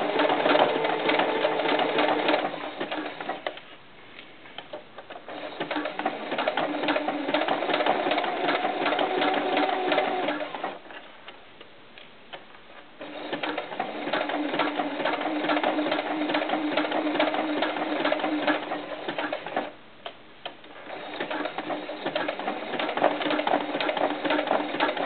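A sewing machine runs over stretchy knit fabric for a doll's sleeveless tank top in three long, steady bursts of rapid stitching, separated by brief quiet pauses. The sound is close and clear, and no one talks.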